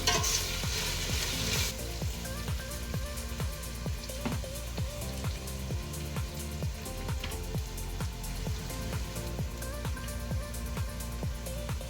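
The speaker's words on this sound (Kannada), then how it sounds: "ಎಲ್ಲ ಶುಂಠಿ ಬೆಳ್ಳುಳ್ಳಿ ಪೇಸ್ಟು ಸ್ಮೆಲ್ ಹೋಗೋವರೆಗೂ ಮಿಕ್ಸ್ ಮಾಡ್ಕೊಳ್ಳೋಣ" Ginger garlic paste fries in a pan for chicken biryani, a steady close sizzle under repeated scraping strokes of a spoon stirring at an even rhythm, with no speech.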